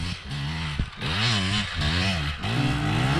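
A motorcycle engine revs and shifts in pitch up and down, loud and close throughout a short stretch of riding, with wind noise underneath.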